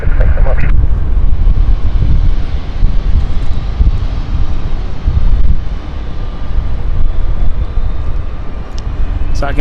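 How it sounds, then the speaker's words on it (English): An aircraft engine spools up on stand 5 at London City airport, a loud, broad continuous roar with wind buffeting the microphone throughout. "That's not an APU, that is actually an engine start up over on stand 5."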